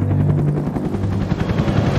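A helicopter in the video game Left 4 Dead 2 closes in, its loud rapid rotor chop pulsing steadily and filling the space without any voices.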